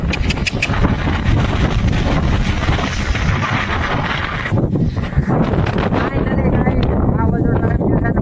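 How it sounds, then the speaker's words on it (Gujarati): Strong storm wind buffets the microphone in a continuous loud roar, with gusts and rustling throughout and a voice faintly under the noise. "પવન ઉડ્યો જોરદાર જો કાગળિયો પણ ઉડી લઈ ગયો"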